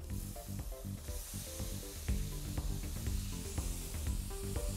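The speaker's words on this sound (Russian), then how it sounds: "Все это обжариваем." Pineapple pieces frying in caramel in a pan give a steady, quiet sizzle with soft scattered pops and stirring clicks throughout, no voices.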